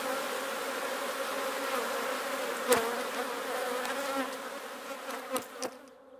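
Honeybees fly in a steady, dense buzzing hum around an opened hive with brood frames exposed. A few sharp knocks or clicks sound near the end as the droning continues.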